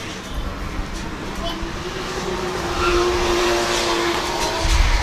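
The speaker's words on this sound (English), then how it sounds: "Driving a BMW E36 Touring, 1JZ underneath the bonnet" A BMW E36 Touring drift car with a 1JZ engine pulls away at a British Drift Championship qualifying round in Buxton, its engine droning and building in loudness beneath a commentator's voice.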